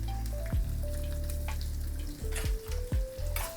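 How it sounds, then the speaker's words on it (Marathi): Sliced onion sautéing in hot oil in a pan for masala dosa, a steady sizzle with a few scraping stirs of the spatula, close and alone without talk. "आणि आता हा कांदा सुद्धा आपल्याला परतून घ्यायचा आहे."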